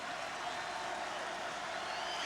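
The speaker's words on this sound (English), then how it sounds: "And listen to the crowd. They respond to Lamar Owen." College basketball crowd in a packed arena between Southern Illinois and Hawaii, a steady dense roar of cheering and applause for a popular player, continuous and fairly loud with no voice standing out.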